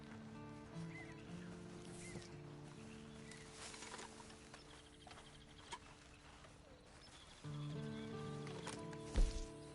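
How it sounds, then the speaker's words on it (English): Horse in a Western-style scene, soft clip-clop hooves and a faint whinny under steady musical tones and light rustling, with a louder thump near the end; no clear speech. "And you better get on this horse."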